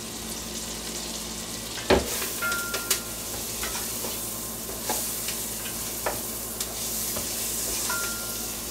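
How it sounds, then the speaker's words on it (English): Mussels sizzle steadily in a hot pan while being stirred, with a few sharp scrapes and clacks of shells against the pan and spoon over a continuous frying hiss. "We'll stir that around."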